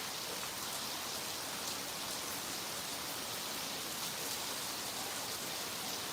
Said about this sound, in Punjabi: ਬਾਰਿਸ਼ ਹੋ ਰਹੀ ਹੈ ਲਗਾਤਾਰ